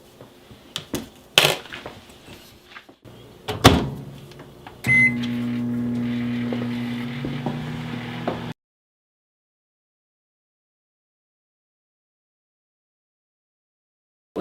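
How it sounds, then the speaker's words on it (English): A microwave oven runs with a steady low electrical hum after a few clicks and thumps of the door and buttons, heating a keto German chocolate mug cake, then cuts off abruptly into silence. "So I am going to go back to the microwave for about 30"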